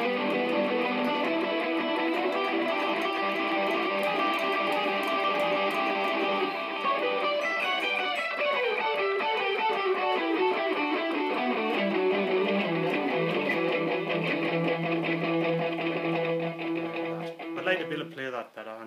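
Electric guitar playing a solo from a live album, a sustained, bright and distorted lead line with dense, continuous notes and delay-like layering, loud and steady throughout before tailing off at the end.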